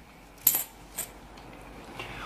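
Coins are handled and stacked for a coin magic trick, giving a sharp metallic clink followed by lighter taps and soft rattles, close and quiet against a faint background, with no talking.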